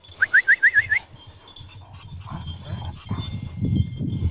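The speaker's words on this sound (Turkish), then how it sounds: "Bu da güzel bir kangal." A Kangal dog lets out a quick run of five or six high, rising whimpering yips up close, then settles into steady low panting and snuffling.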